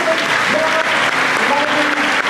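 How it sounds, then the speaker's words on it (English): An auditorium crowd at the annual Dairy Festival pageant claps loudly and steadily for children on stage, a thick wash of applause with a few voices faintly audible underneath. "Let's have one more round of applause for these lovely"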